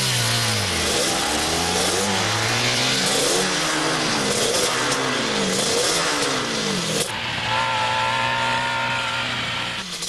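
A car engine revs and accelerates with rising, sweeping pitch, loud and close, shifting gears repeatedly before settling into a steady higher drone.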